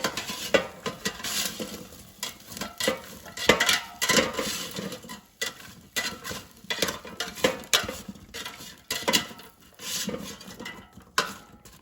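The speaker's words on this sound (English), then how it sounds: "And now let's mix everything until combined." Sliced potatoes and onions tossed together in a bowl, giving a run of repeated scraping, clinking and rubbing strokes at close range, steady and fairly loud throughout with no talking.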